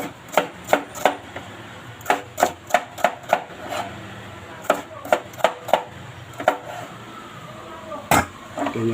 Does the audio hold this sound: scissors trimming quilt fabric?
no